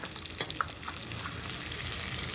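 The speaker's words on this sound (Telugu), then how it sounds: "ఎల్లుల్లిపాయలు వేగిపోయినాయి ఇందులోనే జీలకర్ర" Garlic and cumin seeds frying in hot oil for a tempering, a soft continuous sizzle with faint crackles, heard close and alone for a couple of seconds.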